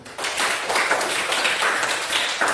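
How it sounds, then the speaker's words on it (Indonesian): A class of students in a mathematics lesson claps hands together, a fast, busy patter of claps that is loud and fairly near and lasts a couple of seconds with no talk over it. "Oke, tepuk tangan dulu."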